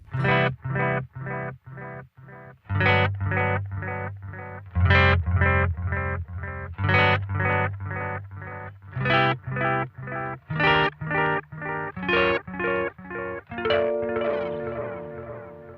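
An electric guitar picks a steady stream of rhythmic notes through an analog delay pedal in its longer custom mode, with longer echoes trailing and blending as the phrase climbs.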